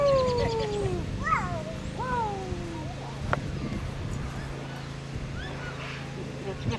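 A cat meows in several short, rising and falling calls outdoors, with people talking softly underneath and a brief sharp click partway through.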